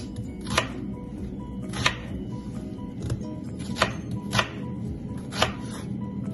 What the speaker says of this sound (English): I'll marinate my beef, which I'll cut my onions